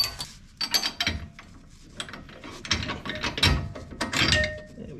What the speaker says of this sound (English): Pull the front bolt out.